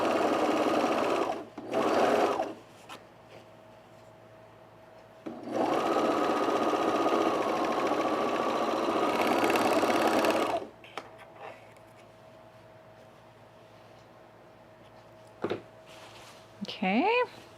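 A sewing machine stitches a sunblock top on the mesh side in two short bursts, then a long steady run of about five seconds, with someone talking in the quiet gaps.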